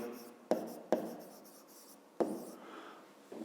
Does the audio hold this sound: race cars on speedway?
no